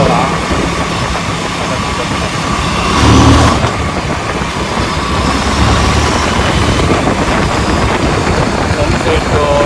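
Steady, loud engine rumble and road noise from a vehicle while riding, running throughout with a brief swell of louder roar near the third second; people talk over it.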